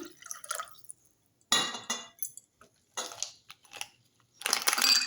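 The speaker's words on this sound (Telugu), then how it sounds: "ఐస్ ముక్కలండి" Ice pieces go into a glass of rose milk with khova, making several separate bursts of clinking and crunching against the glass, close up and with no talk.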